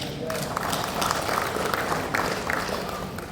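Applause and scattered clapping from a crowd, steady and fairly loud, with voices mixed in throughout.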